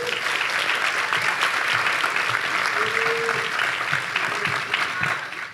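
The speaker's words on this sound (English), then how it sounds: "Let's give them a round of applause." Audience applause welcomes guests onto the stage for a documentary film panel: a dense, steady wash of many hands clapping that holds evenly for about five seconds and eases slightly at the end.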